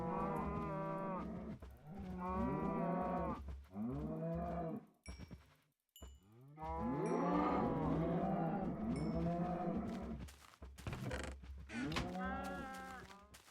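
Cows in the video game Minecraft moo in long, drawn-out calls, several overlapping and following one another at close range, with a short creaking mechanical sound between them and no speech.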